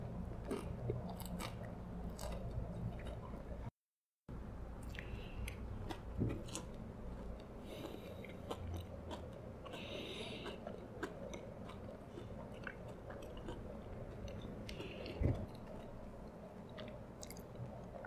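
Someone eats a McDonald's apple pie, with close, steady chewing and moist biting crunches running throughout, a short gap near the start and one sharper crunch later on, no talking.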